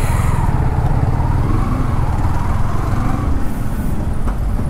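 Dense road traffic on 10th Avenue, heard from a motorcycle riding through congestion, with a steady close rumble of engines and vehicles that holds without a break.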